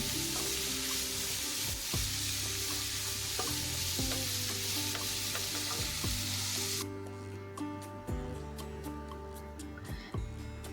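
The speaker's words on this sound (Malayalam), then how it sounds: "സവോളയൊക്കെ നല്ലവണ്ണം വഴന്ന് വരുന്നവരെ നമുക്ക് ഇളക്കി കൊടുക്കാം" Onions sautéing in a pan for a Kerala-style crab roast, a steady close sizzle with repeated scraping and clinking stirs throughout, the frying hiss easing a little toward the end.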